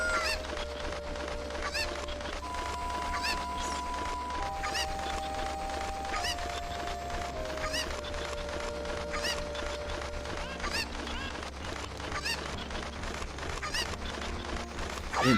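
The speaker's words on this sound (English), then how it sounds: "My cuckoos have run away." Cucco chickens in Zelda: Ocarina of Time honk and cluck in a rapid, steady stream over game music throughout, loud and close, with no talking.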